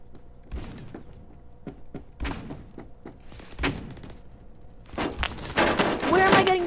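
Gunfire in the Roblox Phantom Forces shooter game, scattered sharp shots and thuds at irregular intervals building to denser bursts near the end, with a player speaking intermittently.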